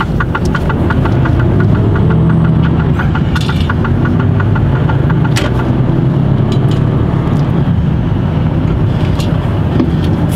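A car engine runs steadily and loudly throughout, with a dense low rumble that holds constant rather than clearly rising and falling.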